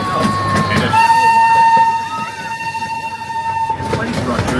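The Lake Winnie tour train rolls along at an amusement park, a steady rumble with a sustained whistle-like horn tone held for several seconds, heard close up.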